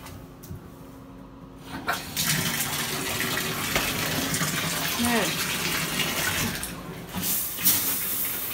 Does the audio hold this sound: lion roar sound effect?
no